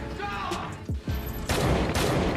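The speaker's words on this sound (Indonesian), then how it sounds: "Jamie pun bisa menghindari tembakan Jen" Rapid bursts of gunfire from the film Survive the Night (2020) crackle loudly amid chaotic action noise, a sustained volley dominating the second half.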